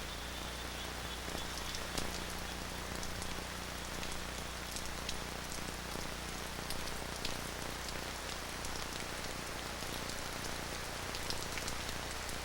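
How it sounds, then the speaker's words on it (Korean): Monsoon rain falling steadily in Cambodia, a dense continuous patter on surfaces with scattered nearer drops, even and unbroken throughout. "다섯 달에 걸쳐 계속 내리는 비."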